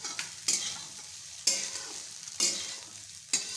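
Soy chunks frying in oil, stirred in four distinct scraping strokes roughly a second apart, each a bright hissing sizzle that fades before the next; close, moderately quiet, no voices.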